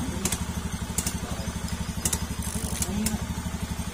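A Honda ADV150 scooter, which will not start once hot, runs with a steady rapid mechanical pulsing close by, a few sharp clicks and ticks on top, and no talk.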